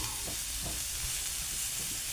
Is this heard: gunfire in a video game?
no